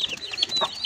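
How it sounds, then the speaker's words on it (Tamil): Mother hen clucking beside her two-week-old chicks, several short close clucks with faint high chick peeps mixed in, no talking. "கோழி குஞ்சுலாம் இருக்குது, குட்டி எல்லாமே இருக்குது."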